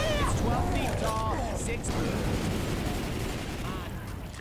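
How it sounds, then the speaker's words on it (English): A grenade launcher fires amid zombie combat in Left 4 Dead 2, with booming blasts and rattling gunfire beneath voices talking over the chaotic action. "Grenade launcher, bam."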